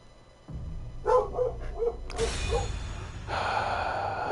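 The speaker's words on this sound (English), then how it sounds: "The puppy is audible" A puppy barks several times nearby in a short series of quick yaps, followed by a rising whoosh of steady background noise.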